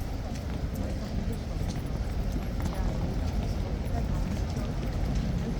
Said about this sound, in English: Hopefully those two police horses are going to come across and cut through here as well.